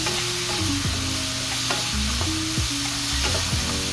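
Chicken and broccoli get stirred in a sizzling pan, a loud steady fry with repeated clanks and scrapes of the utensil against the metal, no voices present.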